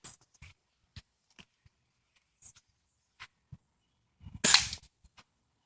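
A single sharp BB gun shot at a target, one loud crack near the end after a stretch of quiet with faint clicks and handling sounds.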